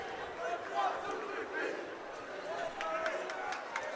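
Crowd of basketball supporters filling an indoor stadium before an under-18 men's game, a steady murmur of many voices with scattered louder shouts and footsteps, continuous and moderately near.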